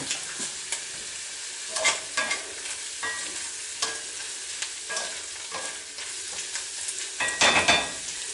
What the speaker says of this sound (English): And whisk it till there's no more lumps in it.